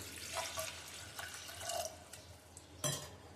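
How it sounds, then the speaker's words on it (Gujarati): Quiet splashes and drips of water poured into a pressure cooker holding ginger and cabbage, a few soft trickles and spatters spaced apart, with one sharper splash near the end. "હવે આપણે કુકરમાં પાણી નાખીશું"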